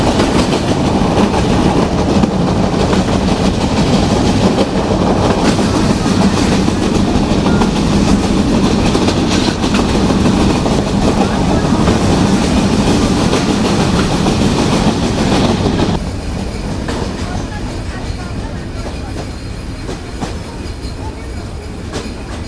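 Sundarban Express from Dhaka to Khulna running at speed past Utli railway station, a loud continuous roar and clatter of wheels on rails that drops in level toward the end.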